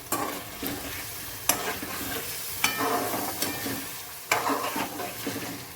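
Sesame seeds and grated coconut dry-roasting in a pan, stirred in steady strokes with sharp scraping clicks of the spoon against the metal over a soft continuous sizzle, close and moderately loud with no voices.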